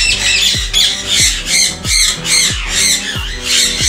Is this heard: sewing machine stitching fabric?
no